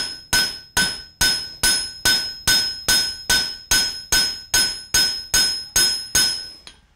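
Hot steel is hammered on an anvil while forging a doorstop, giving about fourteen loud, ringing metallic strikes at an even pace, each with a short bright ring, heard close and alone.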